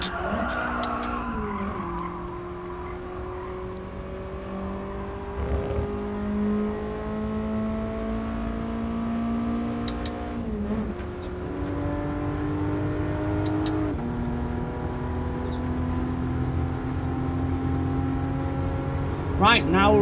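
A 2019 Toyota GR Supra RZ in Gran Turismo Sport on PS4 revs through rising and falling engine gear changes with several tire squeals and skids, loud and continuous, while a person talks over the game sound.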